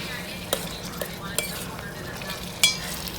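Onion and tomato masala fries gently in a pan under a low, continuous sizzle, punctuated by a few sharp scrapes and clinks of a spoon against the metal as it is stirred.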